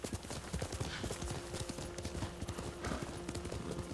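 Horse hooves clip-clop at a steady trotting rhythm in the video game Ghost of Tsushima, repeated close thuds with a faint whinny tone and a low game hum underneath.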